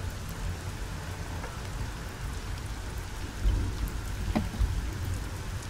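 Steady rain patters as an ambient backdrop for a tabletop RPG session, a continuous soft hiss with a couple of low rumbles of distant thunder, no voices heard.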